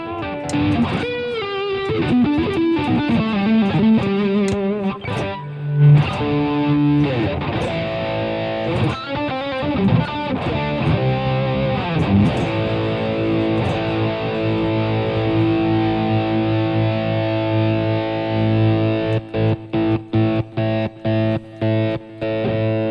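Electric guitar played through a signature amp, a distorted, effects-laden tone with sustained chords and melodic lines throughout, ending in a run of sharp, staccato stabs, loud and close with no talking.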